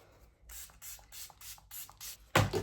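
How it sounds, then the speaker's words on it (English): A series of short, quick spritzes from a fine-mist spray bottle, about seven bursts in a loose rhythm, ending with a louder, closer thump. "Setting spray."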